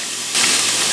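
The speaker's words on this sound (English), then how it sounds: "while my onions are cooking on medium heat" Onions cooking in a pan on medium heat, a broad steady sizzling hiss that jumps louder partway through and then keeps going close by.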